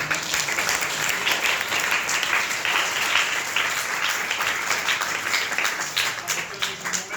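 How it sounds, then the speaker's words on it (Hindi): Sustained applause from a large crowd at a library event in Kotra, Kaithal, dense and steady throughout, with scattered individual claps standing out. "आप अपने लिए भी ताली बजाइए।"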